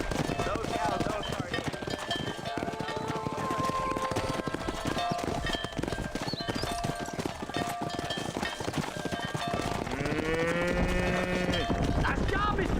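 Cattle herded from horseback in the Red Dead Redemption video game: steady hoof clip-clop and rustling movement throughout, with a drawn-out cow moo rising near the end, under ongoing voices and game ambience.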